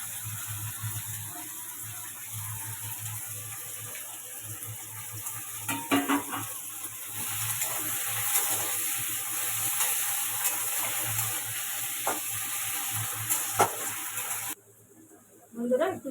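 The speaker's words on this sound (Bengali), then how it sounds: "এবার ওখানে আমি টমেটোটা দেবো। নেড়ে নেবো, সাথে আদা রসুন পেস্টটাও দিয়ে দেবো।" Tomato with ginger-garlic paste sizzling and being stirred in a pan for a fish curry, a steady fry hiss with a few scraping knocks, then a short quiet stretch near the end.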